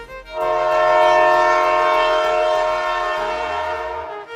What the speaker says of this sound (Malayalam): ട്രെയിൻ എടുക്കാനായി.